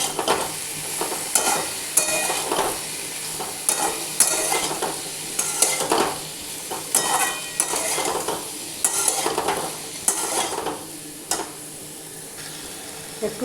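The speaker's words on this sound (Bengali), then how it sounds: "একটু জল দিয়ে মশলাটাকে ভালো করে ভাজবো" Spice paste of cumin, coriander and turmeric fries in a pan with a splash of water, a steady close sizzle broken by repeated scraping stirs throughout.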